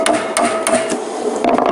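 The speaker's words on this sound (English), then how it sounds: "then I hammer this area in this upper area in here" Sharp metallic hammer blows strike a bolt on a Vauxhall/Opel Astra oil pump during disassembly, about five close, loud impacts landing in an uneven rhythm with a ringing tone between them.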